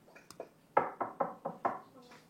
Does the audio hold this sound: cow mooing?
no